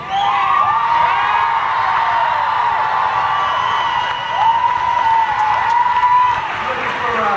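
Audience at a live concert cheering and shouting throughout, a dense, steady wall of crowd noise with whistles and whoops rising above it, recorded from within the crowd.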